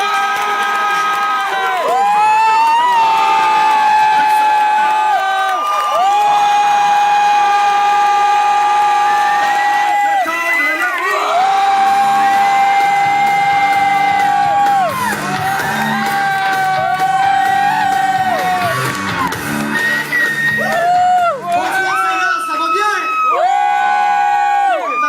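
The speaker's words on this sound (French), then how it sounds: "On commence à l'applaudir, mesdames, messieurs." A comedy club crowd cheers, whoops and shouts loudly and continuously as a comedian is welcomed onstage, with bright musical tones running through the din.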